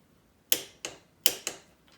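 Torque wrench tightening handlebar bolts on a Honda ATC 200X three-wheeler, four sharp metallic clicks in two quick pairs, close and clear against near silence.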